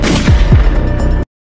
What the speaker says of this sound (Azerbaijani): arxadan 3 dəfə silah səsi